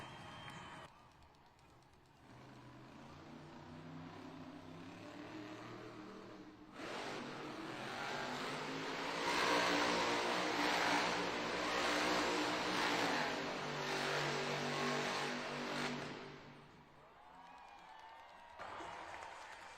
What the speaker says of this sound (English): Great Monster Jam Donuts by Logan Ashline and Monster Mutt Dalmatian